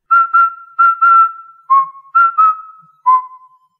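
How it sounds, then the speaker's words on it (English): Luigi from the video game Luigi's Mansion whistles a short tune alone: a close, clear series of bright warbling notes with a few sliding tones, each note dropping away before the next, with no talk. "in Luigi's Mansion, Luigi will whistle or hum to himself as he explores the mansion"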